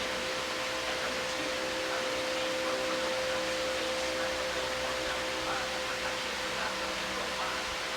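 A Lasko 20-inch Max Performance box fan runs steadily on medium speed, giving a constant airy whoosh with a faint steady hum underneath, unchanging and close for the whole stretch with no voices.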